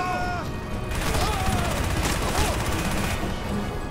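Minigun in Crysis firing long, dense bursts of rapid gunfire, loud and close, with short pauses between volleys and a voice faintly underneath.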